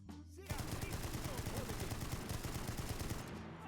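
Nor Bremse machine gun firing in the video game Enlisted, a sustained rapid burst of rattling automatic fire lasting about three seconds, loud and continuous.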